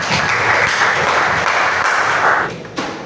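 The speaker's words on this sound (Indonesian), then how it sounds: "Keras sekali. Tepuk tangan." Audience applause at a classroom lesson about motorcycle fuel injection: a dense, steady wash of clapping that swells for about two seconds, then tapers off.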